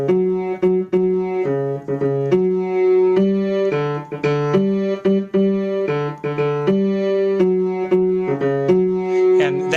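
Bass opening of a rock song, two intervals moving in parallel, a steady repeating figure of plucked notes played clearly and fairly loud with no talking.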